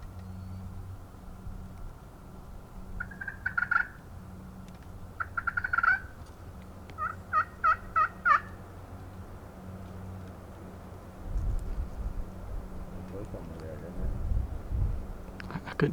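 A wild turkey in a Virginia field on the opening day of spring season gobbles several times in short rattling bursts at a middle distance, with hunters' quiet voices and rustling in between.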